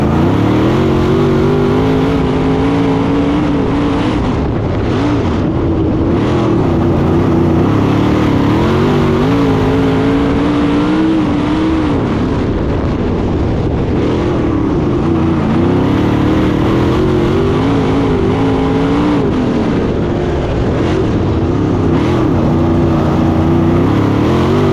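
Non-wing sprint race car roaring down the straightaway under green, a loud, continuous engine howl with rising and falling revs, heard close and unbroken throughout with no talk.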